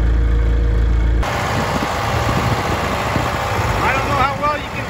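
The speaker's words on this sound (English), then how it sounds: "Tractor. We're ready to go." A farm tractor engine idles and runs with a steady loud rumble close by on a snowy farm, with faint talking at the end.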